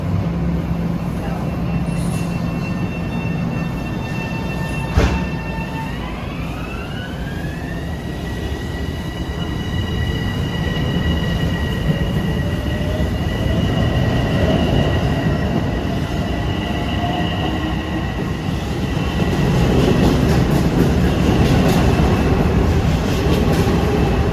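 A Long Island Rail Road train stands at Forest Hills station during the morning rush, its long rumble and hiss steady while rising wheel or motor tones sweep upward, loud and close, with some echo.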